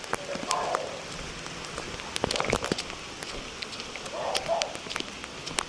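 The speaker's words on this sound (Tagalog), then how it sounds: "Oh, lakas ng ulan oh." Heavy rain pours steadily, a dense hiss with scattered louder drops spattering nearby.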